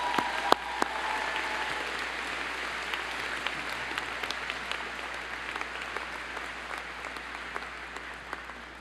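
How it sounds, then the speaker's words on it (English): Sustained applause from a commencement audience fills a large hall, a dense steady wash of clapping with scattered sharper claps, gradually easing toward the end. "Please join me in welcoming Maren with a round of applause."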